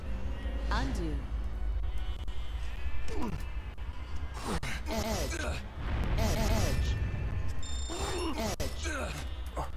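Sheep bleating in the video game Catherine: Full Body, several wavering bleats over game music and alarm-like tones, with a player talking excitedly throughout.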